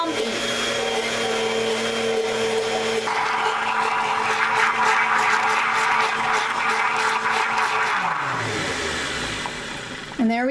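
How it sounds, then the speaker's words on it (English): A loud blender churning cream into butter whirs steadily, its motor tone thickening and shifting as the contents turn lumpy, then winding down near the end. "You saw how much faster that was in a blender."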